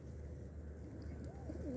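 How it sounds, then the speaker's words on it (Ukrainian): Soft, low cooing of a city pigeon in winter rises and falls against a steady low background hum, close by and fairly quiet. "Ще зимуючі птахи, які мешкають в місті біля людей, це голуб"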